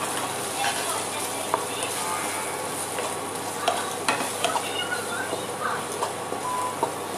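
Onion-garlic masala being stirred and roasted in a pan, a bright steady sizzle with repeated spoon scrapes and clinks against the pan, close by, with a voice speaking briefly over it.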